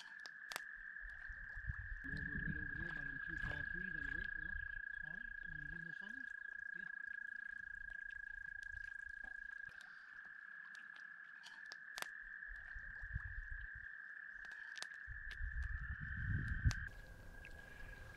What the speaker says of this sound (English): It's mating season for the frogs.